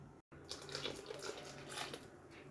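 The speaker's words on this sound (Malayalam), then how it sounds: "ആവശ്യത്തിന് വെള്ളവും നമുക്ക് ഒഴിച്ചു കൊടുക്കാം" Water pours steadily into a pot of fish curry with a tamarind-ground masala, mango and coconut, a close, continuous splashing wash that runs for a couple of seconds after a brief silent gap at the start.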